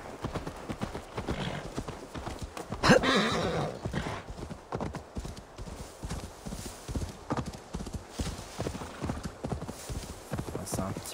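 Horse hooves clip-clop in a steady rhythm throughout, with a brief whinny early on and a voice speaking over the hoofbeats, in the video game Assassin's Creed Valhalla.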